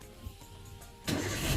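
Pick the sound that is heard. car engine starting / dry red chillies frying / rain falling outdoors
car engine starting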